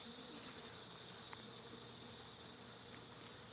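Honeybees hum at a beehive during a hive inspection, a faint, steady buzzing drone with a few soft clicks, no one speaking.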